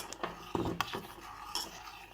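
A spoon scrapes and stirs through thickening homemade junnu in a pan, with a few sharp metallic clinks and rubbing strokes up close.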